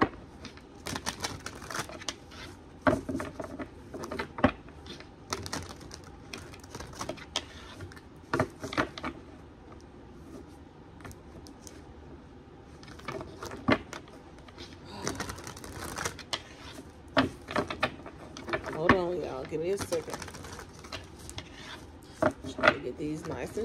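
Tarot cards being shuffled by hand produce rapid papery riffles, slaps and light taps in irregular bursts, close and moderately loud, with occasional soft speech between them.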